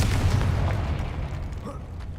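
A Confringo blasting spell detonates in Hogwarts Legacy, a loud booming burst at the start that rolls into a rumbling low decay over a couple of seconds.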